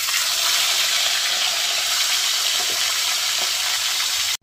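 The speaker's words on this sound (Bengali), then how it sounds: "আর একটা যে রয়েছে এটাকেও ঠিক সেম এইভাবেই ভেজে নেব" A second piece of katla fish fries in hot oil, giving a continuous close sizzle with faint stirring and scraping sounds that stops abruptly at the end. No one speaks.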